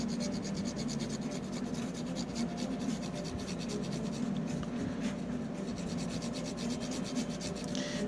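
A 1989 Nintendo Demon Sword cartridge is scrubbed to lift grime, giving close, quiet, continuous rubbing and scratching strokes with a soft rasp, no voices.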